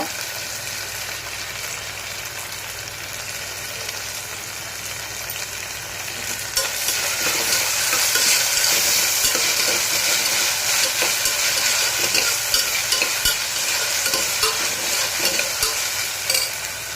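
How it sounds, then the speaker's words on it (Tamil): Coriander leaves, mint and green chillies sautéing in a pot for one-pot ghee rice, a steady close sizzle with stirring scrapes that grows louder and denser about halfway through. "எல்லாமே நல்லா வதக்கிக்கோங்க"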